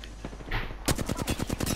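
Rapid automatic gunfire in the Apex Legends battle royale game, a tight burst of evenly spaced shots ringing out loud and close after a brief lull.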